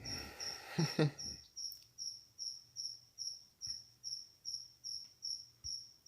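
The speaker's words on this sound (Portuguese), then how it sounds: "O grilo tá louco." Cricket in a Dragon Ball: Advanced Adventure game chirps in a steady, evenly spaced series of short bursts, faint and close, after a brief louder knock at the start.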